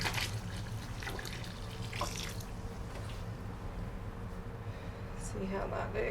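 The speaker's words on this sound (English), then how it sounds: "Okay, so I'm just going to put some water down." Water splashes and trickles down onto drainage stones, with a person speaking briefly over the pouring.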